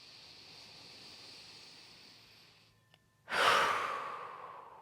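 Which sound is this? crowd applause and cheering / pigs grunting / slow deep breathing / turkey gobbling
slow deep breathing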